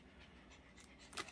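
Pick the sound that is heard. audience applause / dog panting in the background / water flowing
dog panting in the background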